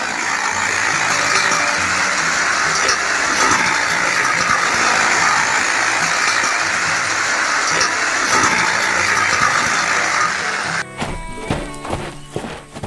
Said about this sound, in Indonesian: Traktor hijau menarik trailer penuh kayu, berjalan di sekitar peternakan yang ramai dan ceria.